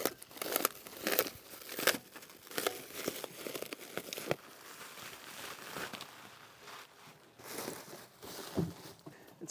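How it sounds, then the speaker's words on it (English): Packaging being unwrapped from an Off-Road Concepts bumper: repeated crinkling, tearing and rustling bursts of plastic and wrap at close range, irregular and fairly quiet, with brief pauses and no talk. "So I'm going to start unwrapping this"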